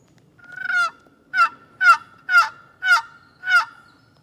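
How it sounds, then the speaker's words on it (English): Wild turkeys answer hunters' calls with six loud, harsh honking calls in quick succession, each a short burst with clear gaps, with no talk over them. "We've probably heard them gobble 20, 25 times"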